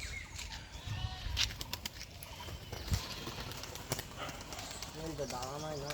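A young pigeon with newly grown flight feathers is released by hand, its wings flapping in brief bursts amid outdoor noise, while people talk nearby and a bird coos toward the end.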